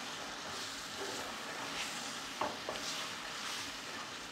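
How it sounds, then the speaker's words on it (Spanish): Longaniza sofrito for Dominican locrio sautéing in a pan, a soft steady sizzle with faint stirring scrapes and a couple of light utensil taps, quiet and continuous. "Todo esto lo sofreímos bien para que les salga ese gustico sabroso que ya tienen."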